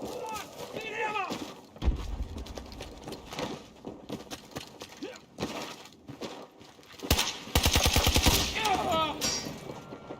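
Gunfire in Battlefield 2042, scattered shots and automatic bursts near and far, with a loud rapid burst near the end, under frequent talk from players.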